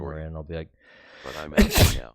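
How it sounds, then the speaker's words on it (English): A single sharp sneeze done on command bursts out near the end, loud and close, right after a short stretch of talking. "Did you just sneeze on command?"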